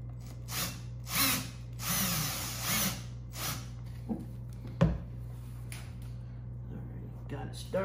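A power drill drives self-tapping screws into the plastic hull of a Hobie Compass kayak in several short whirring bursts, with quieter pauses between them and a sharp knock near the middle.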